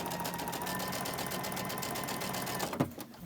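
A sewing machine chain-stitches quilt blocks for a Christmas fir block pattern, a steady close whir of rapid needle strokes running continuously, then slowing with a brief thump near the end.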